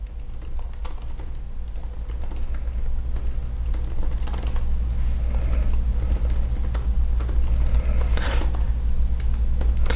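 Steady, fairly rapid typing on a computer keyboard, with close, continuous key clicks over a low background hum for the whole stretch and no talking.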